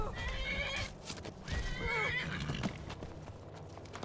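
Horse in the video game Skyrim giving a loud whinny and snorts over clip-clopping hooves, close and prominent, with game ambience beneath.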